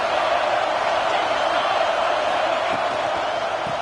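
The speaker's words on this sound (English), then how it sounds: "This crowd bringing the energy and noise early." A football stadium crowd produces a dense, steady roar throughout, loud and unbroken, with no distinct cheers standing out.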